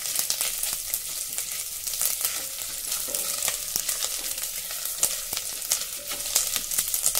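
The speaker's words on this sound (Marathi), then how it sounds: "हे नारळाचे काप आपण थोडे हलके तांबूस होईपर्यंत परतून घेऊ।" Fresh coconut slices fry in a pan until light brown, with a steady close sizzle and frequent scraping strokes and clicks as they are turned, loud and continuous with no voices.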